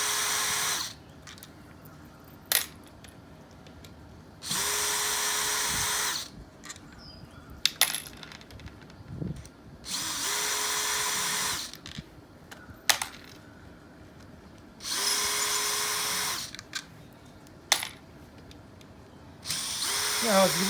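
Power drill backing small screws out of a Sta-Rite Pentair swimming pool pump diffuser: several short whirring bursts of a few seconds each, separated by quiet gaps with clicks and small metal clinks, fairly near.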